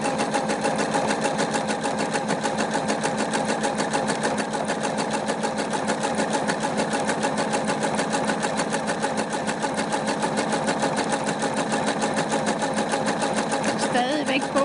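Domestic sewing machine stitching steadily forward along a trouser leg while a patch is sewn on, a continuous close whirring hum that holds the same rhythm throughout with no pause.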